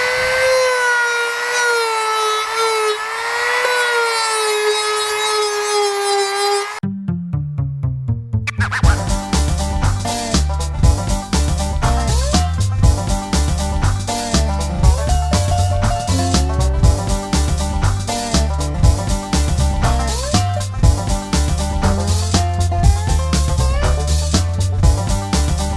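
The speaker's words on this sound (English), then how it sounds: "we've got all the work done with our Dremel so far" A Dremel rotary tool carves a prop blade in a loud, steady whine that runs for about 20 seconds, following a brief tonal hum and a short quiet gap.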